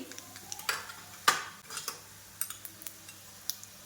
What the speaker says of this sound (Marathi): हे पहा मस्तपैकी आपला तडका रेडी झाला आहे.